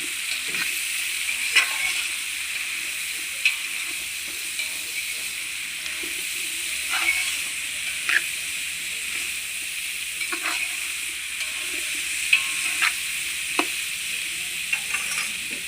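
Spiced vegetable mixture with turmeric and salt being stirred in a hot pan, a constant sizzle punctuated by regular sharp scrapes and taps of the spoon against the pan, close by.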